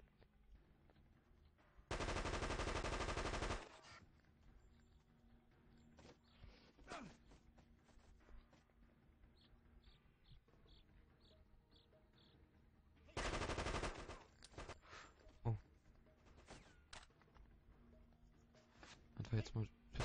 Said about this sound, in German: Wie sie einfach hier dann eine Uzi haben.